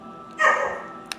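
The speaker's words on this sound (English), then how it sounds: "My apologies for the barking dog." A single short dog bark rings out, fairly close, followed by a faint click, with quiet surroundings otherwise.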